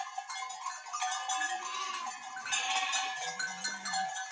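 Goats and sheep on a dry caatinga farm, with clanking cowbells and scattered bleats layered over a steady, busy rural background of animal sounds.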